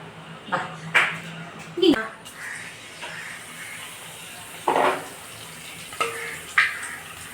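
Curry leaves are dropped into hot oil, giving several short, sharp bursts of sizzling and spitting that flare up and fade. A voice talks between the bursts.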